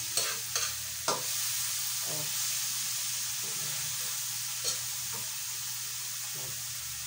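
Pork fat sizzles and simmers in a pan, making a steady close hiss broken by several sharp stirring clacks and scrapes.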